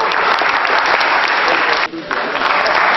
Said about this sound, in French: applaudissements de la salle.